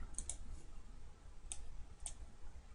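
Faint, sharp clicks from a computer mouse in a quiet room: a quick double click, then two single clicks spaced about half a second apart, with no talk.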